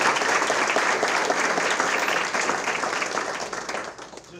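Sustained audience applause at a school board meeting, dense steady clapping from many hands that holds for several seconds and slowly fades toward the end.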